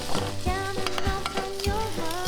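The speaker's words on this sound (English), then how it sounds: "Now we can add some crab meat. Have a quick stir fry to keep the juicy taste." Crab meat sizzles loudly in a hot wok during a quick stir fry, with a steady frying hiss and repeated scraping knocks of the spatula.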